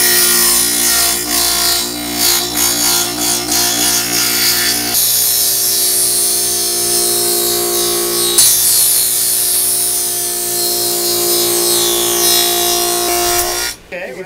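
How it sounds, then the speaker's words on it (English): A power tool cuts a chunk out of oak bench wood, running loud and steady with a harsh grinding buzz for about fourteen seconds before stopping abruptly at the end. "We need to cut out this whole chunk of wood right here."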